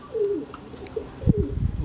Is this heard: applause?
no